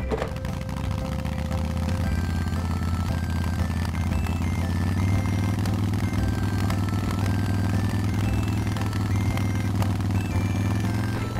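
Steady whirring engine drone from a red toy motorcycle at an indoor play place, continuous and fairly loud with faint clattering ticks over it and no voices.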